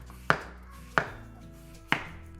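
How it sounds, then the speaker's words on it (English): A large knife slices through apples on a cutting board for homemade applesauce, giving three sharp, evenly spaced chops close up, each a crisp thunk that fades before the next. "I'm gonna use a bigger knife, and I'm just gonna make slices"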